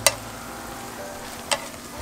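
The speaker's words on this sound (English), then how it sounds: "So probably 2 to 3 minutes of just stir frying it should do in high heat" River prawns stir-fried in garlic butter over high heat give a steady sizzle broken by two sharp scrapes of the utensil against the pan, one near the start and one later on.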